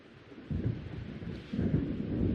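Thunder from an approaching storm in the horror game Alan Wake, deep rolling rumbles arriving in two swelling waves over steady rain-like hiss, fairly loud and close, with no voices.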